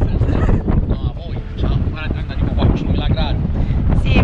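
Strong wind blows and buffets the microphone outdoors on seaside rocks on the English coast, a constant loud roaring rush that never lets up.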